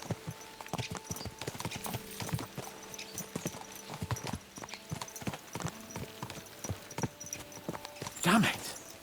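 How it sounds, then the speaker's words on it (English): Horse hooves in the video game Kingdom Come: Deliverance II: a steady clip-clop of hoofbeats at a brisk pace, close and distinct, with a short rough burst near the end that sounds like a snort or whinny. "Let's really spur these horses on, eh?"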